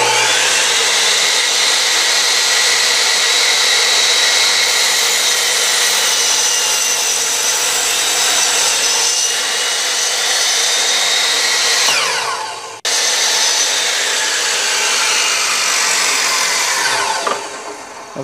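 Saw cutting through wooden boards makes a loud, continuous rasping whine, with a brief break partway through before a second stretch of cutting.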